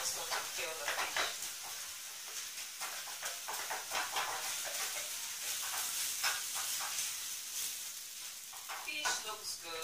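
Wooden spoon scraping and mashing fish in a hot, sizzling pan while making Cameroon fish rolls, with a steady crackling fry and repeated soft stirring strokes throughout, close up.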